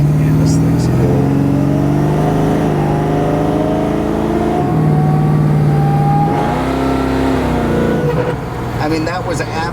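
A supercharged 427 LS V8 with an 8-71 blower in a 1934 Chevy street rod idles with a heavy, lumpy rumble and rises in a couple of short revs. It is loud and steady from close by.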